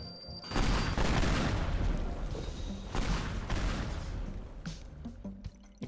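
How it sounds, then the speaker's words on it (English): Loud rumbling explosions and rapid gunfire-like blasts in the video game Teardown roar almost continuously, with a few sharp bursts punching through near the end. "Explosions."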